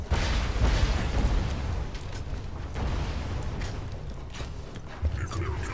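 Incoming rockets explode in the video game Borderlands 2: repeated heavy booms and bursts layered into a dense, loud battle mix of continuous game noise.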